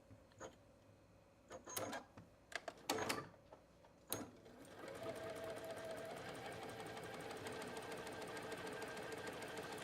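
A domestic sewing machine stitching quilt blocks on a diagonal line, starting with a few short bursts and clicks and then running in a steady, fast, even whir. The machine sounds close and fairly quiet, with no talking.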